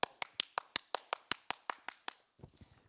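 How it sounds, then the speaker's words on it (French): One person claps about a dozen times at an even, brisk pace on a comedy stage, the claps close and crisp, followed by a brief softer rustle. "je fais les applaudissements."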